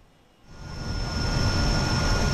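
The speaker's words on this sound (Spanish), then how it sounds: "Conocimos el trabajo de ANI, el helicóptero más grande del mundo en su tipo," The ANI firefighting super helicopter, billed as the largest of its type, flies overhead as a steady, loud engine and rotor roar that rises quickly from quiet and then holds, with no talking.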